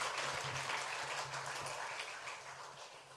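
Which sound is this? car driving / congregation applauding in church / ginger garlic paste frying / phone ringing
congregation applauding in church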